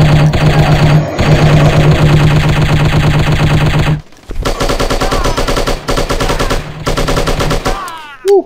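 Rapid automatic gunfire from the shooting game Striker chapter 2, a loud sustained machine-gun stream for about four seconds, then more choppy bursts after a brief pause, close and dominant.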